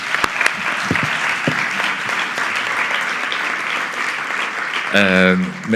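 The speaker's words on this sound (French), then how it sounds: "on peut applaudir Hervé et Romain pour leur travail" An audience applauds Hervé and Romain at the closing of a professional conference, with sustained, even clapping from a room full of people, cut off near the end by a single voice speaking over it.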